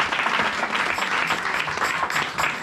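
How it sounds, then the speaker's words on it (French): A church congregation applauds for children, a dense, steady burst of clapping from many hands filling the room without pause. "Acclamons pour ces enfants."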